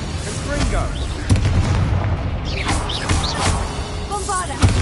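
A Confringo spell explosion in Hogwarts Legacy bursts in a dense, loud stretch of combat, with repeated booming blasts and crackling impacts mixed with shouted voices and battle noise.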